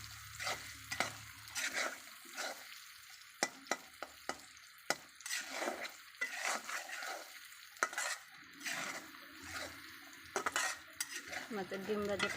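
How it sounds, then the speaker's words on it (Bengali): Fish roe fries in a pan until browned and red, with a soft sizzle under repeated scraping and clinking as a utensil stirs and knocks against the pan. "মাছের ডিমগুলো লাল লাল করে ভেজে নিয়েছি, একদম লাল লাল করে ভেজেছি।"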